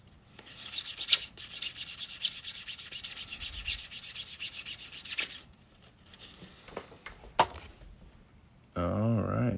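Steady rubbing and rasping of a file or sandpaper smoothing a 2022 quarter coin ring, close and continuous with a few sharp scrapes, under a quiet voice, ending in a brief burst of louder noise.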